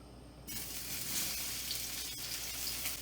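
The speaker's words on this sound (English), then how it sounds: "Need enough to fry all those onions." Onions hit hot olive oil in a pan, bursting into a loud, steady sizzle after a brief quiet start and frying on evenly to the end.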